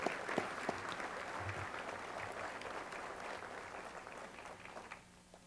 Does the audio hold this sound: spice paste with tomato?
no